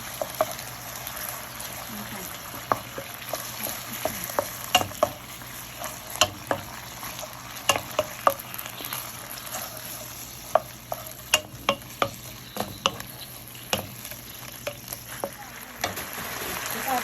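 Chicken and cashew nuts stir-fried in a pan: a continuous sizzle broken by frequent sharp clicks and scrapes of a spatula tossing the food, close up and fairly busy throughout.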